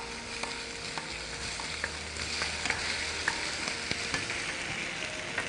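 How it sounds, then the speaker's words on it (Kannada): Ginger garlic paste frying in a pan gives a steady, close sizzle with soft crackles and occasional stirring clicks, and no talking over it. "ಮತ್ತೆ ಸ್ವಲ್ಪ ಫ್ರೈ ಆಗಲಿ."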